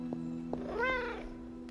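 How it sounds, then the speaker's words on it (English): Cat in the Midnight Suns video game giving a single drawn-out meow over a steady low game hum, clear and close. "Aw, who is a good kitty?"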